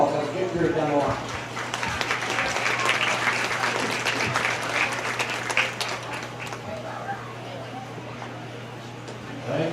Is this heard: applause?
yes